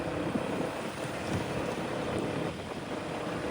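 Strong wind roars and buffets against a phone microphone while riding at 40-50 km/h, a steady, dense rush like air hitting it at speed.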